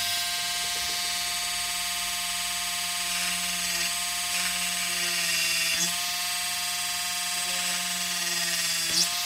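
A hand-held power drill boring holes into a homemade printed circuit board, giving a steady high-pitched motor whine with a constant tone that shifts slightly under load, loud and alone without speech.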